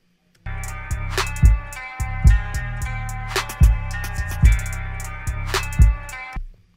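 A kick drum with its final EQ applied, thumping in a steady beat within a looping mix of deep bass notes and bright percussive ticks, loud and clear with no voices.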